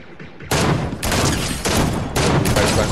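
Gunfire in the Fortnite video game strikes a player in dense, loud bursts of rapid shots, with a brief pause between volleys.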